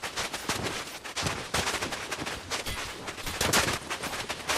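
Rapid bursts of gunfire in the video game Fortnite, dense and continuous over the whole stretch, with loud cracks layered over steady crackling shots and no voice.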